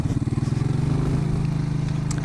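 A lowered Suzuki Smash Revo project motorcycle labours along a rough, narrow mountain road, its engine a close, steady, rapidly pulsing drone with faint scraping, and no voices.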